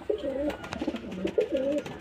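A small green male pigeon coos up close, two rolling throaty phrases rising and falling in a steady rhythm, clear against faint background noise.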